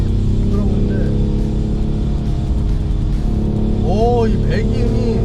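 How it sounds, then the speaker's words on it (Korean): Close, steady exhaust drone from a BMW 840d Gran Coupe diesel in sport mode while driving, with a voice briefly audible over the engine. "이 배기음이,"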